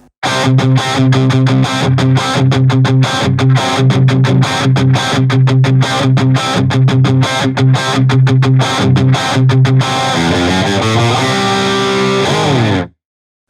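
A loud, heavily distorted electric guitar riff, a song intro through IK Multimedia AmpliTube, plays with choppy, rhythmic palm-muted chugs, ending on sustained ringing chords that cut off abruptly.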